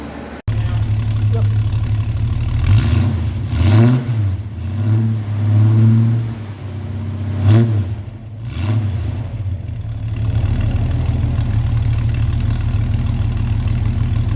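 A 1973 Ford Fairmont hardtop with a 2V cylinder head and custom 2.5-inch mandrel-bent 409 stainless exhaust starts up, then gives a few deep revs and a rev dip before settling into a steady, rumbling idle, close and loud.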